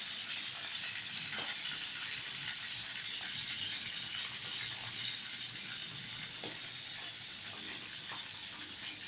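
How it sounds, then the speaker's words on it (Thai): Salted fermented fish fries in hot oil, a continuous bright sizzling hiss with small crackles and pops, close and steady with no talking. "ทอดปลาหยาดแล้วค่ะ"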